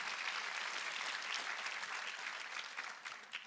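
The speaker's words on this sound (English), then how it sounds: "Everybody clap together if you agree with that." A church congregation claps together in sustained, dense applause that holds steady and then tapers slightly toward the end, with no speech on top.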